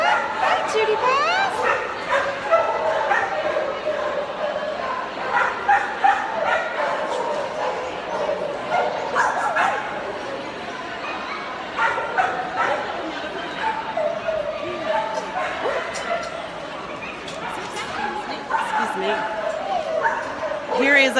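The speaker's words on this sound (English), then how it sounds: "Here is a ton of puppies over here." Puppies, including little blue tick hounds, bark, yip and whimper at a busy adoption event, with steady overlapping yaps throughout and people talking close by.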